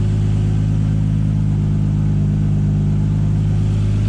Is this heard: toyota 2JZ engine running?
yes